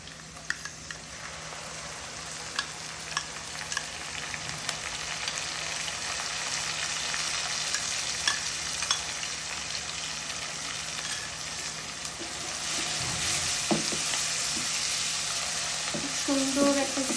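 Onion and spices fry in oil for liver bhuna, a steady close sizzle with stirring scrapes throughout that grows louder and busier near the end.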